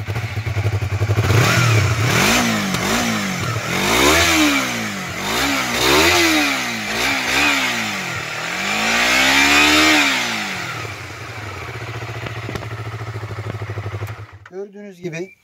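A Yamaha MT25 twin-cylinder motorcycle on its original exhaust, revved repeatedly in a series of sharp rising and falling blips over a steady idle, loud and close, before cutting off near the end.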